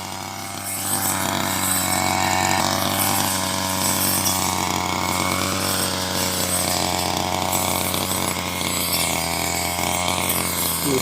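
A loud, continuous motorized saw-blade cutter whine runs steadily through grass cut for cattle feed, its engine droning with little change in pitch and no voices.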